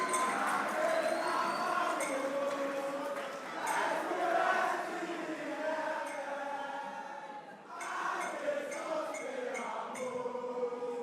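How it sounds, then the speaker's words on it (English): Crowd applause and cheering at a school quiz grand final celebrating St. Augustine's College champions, a steady roar of clapping and voices across the whole stretch that briefly dips before surging again. "A round of applause for them"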